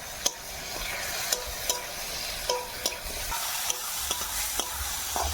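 Spice paste of ginger-garlic, chilli-cumin paste and turmeric being stirred and fried in oil in a pan, a quiet background sizzle broken by sharp scraping clacks of the spoon at irregular intervals.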